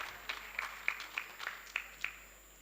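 Sparse, faint hand claps ring out at an award ceremony honoring recipients, falling in an even rhythm of about three per second over a quiet room.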